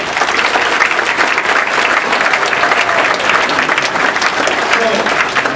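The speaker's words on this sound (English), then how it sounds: "Let's give them all a round of applause." Steady, full audience applause for ward alderman candidates at a candidates' event, continuous dense clapping from a crowd throughout, with no talking over it.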